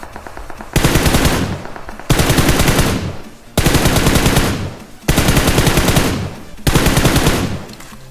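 Loud close-range automatic gunfire in a shooter video game, heard as five long, sustained bursts separated by short gaps, with no talking over it.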